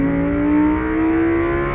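A 2023 Lamborghini Huracan Tecnica's 5.2-liter naturally aspirated V10 drones loud and close, its tone climbing slightly as it revs steadily, with no talking.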